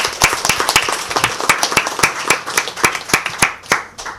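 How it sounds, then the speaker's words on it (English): A small audience at a school board of education meeting claps. The individual claps are sharp and distinct, coming in an uneven rhythm that sounds fairly close and stays steady for several seconds. "So let's give them a round of applause"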